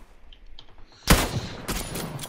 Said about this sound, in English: Alright, someone else is shooting at us